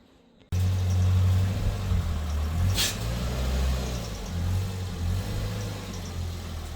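A Ford Figo 1.4 car's engine starts up abruptly after a quiet moment, then runs in a steady low hum with slight rises in revs as it drives onto ramps.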